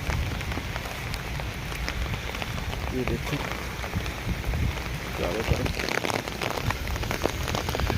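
Steady rain pours down on an outdoor campsite in hilly jungle country, a dense continuous hiss with scattered drops close by, while someone talks briefly over it.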